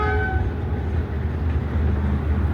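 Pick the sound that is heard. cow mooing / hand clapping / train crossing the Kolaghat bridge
train crossing the Kolaghat bridge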